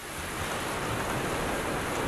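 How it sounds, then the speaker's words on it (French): Tropical rain from a sound-effects library falls as a dense, even hiss that swells slightly at the start and then holds steady, with no voices. "Une pluie tropicale, tout simplement."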